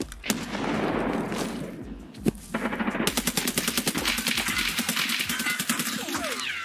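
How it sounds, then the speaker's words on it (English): Gunfire in the video game Escape from Tarkov, a sharp single shot and then a long rapid automatic burst of evenly spaced loud reports, preceded by muffled, noisy game ambience. "He shot him so many times."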